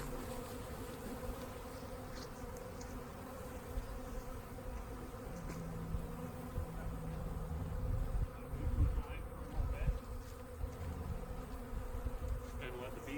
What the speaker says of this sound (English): they are angry bees right now. They keep buzzing my suit, running into my suit, headbutting it